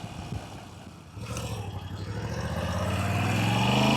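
A Moto Guzzi V7 Centenary motorcycle engine, a transverse V-twin, pulls away and builds steadily, its low drone rising in pitch and loudness over a few seconds of continuous running without speech.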